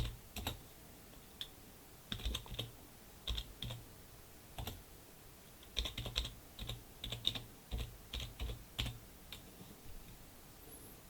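Someone typing C++ code on a computer keyboard, with irregular bursts of close, crisp key clicks separated by short pauses, alone and fairly quiet.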